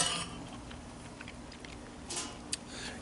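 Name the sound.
big spoon scraping baked oysters from Dutch oven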